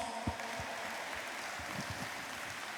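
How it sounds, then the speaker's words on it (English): Guests at the OAA President's Ball 2019 give a round of applause during a pledge auction, a steady wash of clapping with a few sharper claps, moderately loud. "Ladies and gentlemen, a round of applause."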